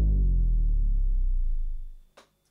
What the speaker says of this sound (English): it's usually a very soft sound that goes down in pitch.